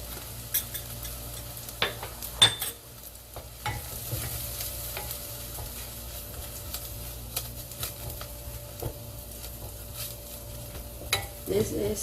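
Chili powder fries in a pan of perilla oil for Korean soft tofu stew, a quiet, steady sizzle broken by scattered clicks and scraping knocks of a utensil stirring.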